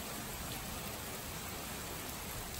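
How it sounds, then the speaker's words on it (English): Heavy rain pours down outdoors in a dense, constant hiss of drops hitting surfaces, loud and unbroken, with no voices. "Dumping rain."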